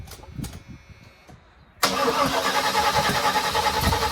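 A 1979 Chevrolet Malibu being started, with a few faint clicks and quiet cranking before the engine abruptly catches and runs loudly and steadily up close, with no voices.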